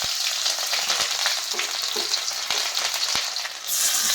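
Chopped onion hits hot oil in a kadai and fries with a dense, steady sizzle, punctuated by occasional sharp clicks of stirring, close and loud, with no talking.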